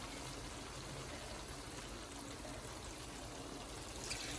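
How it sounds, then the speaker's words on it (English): Dry rice poured into a cooking pot for cabbage rolls, a steady continuous hiss of grains that runs evenly for several seconds at moderate level, with no talking over it. "I'm gonna add my rice."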